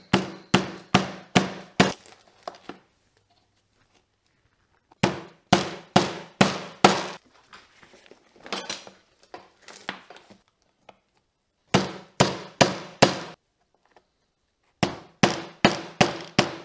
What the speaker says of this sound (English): I'm just gonna give them a few taps with a hammer here.